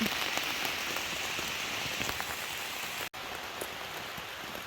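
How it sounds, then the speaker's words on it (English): Heavy rain pours steadily onto a tent along the Appalachian Trail, a dense, even hiss of drops drumming close overhead with no voices, broken only by a split-second gap. "now it's pouring"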